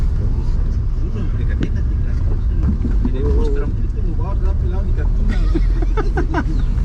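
Ketinting, a small longtail boat engine, putters steadily and close by under wind noise, with voices talking over it throughout.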